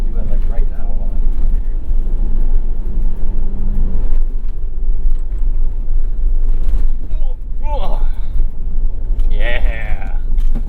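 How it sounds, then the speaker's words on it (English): A 2022 Ford Maverick or Ford Bronco engine runs loud and close as the driver downshifts with a rev match, with a low rumble and sharp rev blips while people talk over it. "Downshift, rev match."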